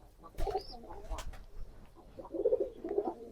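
Pigeons kept in a loft coo nearby in two short bursts of throaty, rolling calls, with light clatter and rustling between them.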